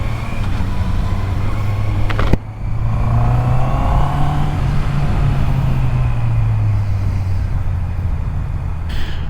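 Honda CB650R E-Clutch motorcycle ridden on the road, with a loud steady engine drone and strong wind rush throughout, one sharp knock partway through and a small pitch swell as it pulls along.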